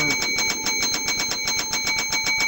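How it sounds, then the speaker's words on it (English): A bell rings in an eerie dream-themed video game, its bright metallic tone struck again and again in a fast, even rhythm that stays loud and steady over a dense background of game sound, with no speech. "I love the ringing this bell."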